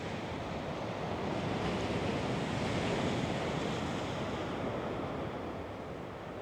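Strong coastal wind roars steadily over the ocean with surf wash underneath during a DJI Neo drone flight, a loud, continuous broadband rush with microphone buffeting and no voices.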